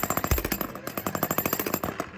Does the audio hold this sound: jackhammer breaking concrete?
yes